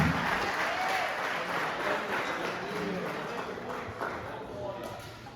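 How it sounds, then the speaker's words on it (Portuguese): Sustained applause from a church congregation at a missions service, steady and loud throughout, with a voice faintly audible beneath the clapping. "Aplauda Jesus nesta noite, mas aplauda com vontade, irmãos."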